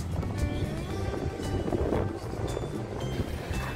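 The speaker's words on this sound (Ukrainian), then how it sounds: "які хвилі. Вон все мокре." Stormy sea waves roll in at Odesa under strong wind, a dense, loud wash of surf and gusts buffeting the microphone close by.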